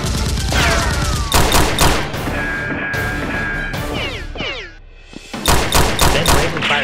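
Rapid bursts of Nerf toy gunfire, sharp repeated pops in quick volleys, loud and close, with whistling zaps and electronic shot sounds between the bursts.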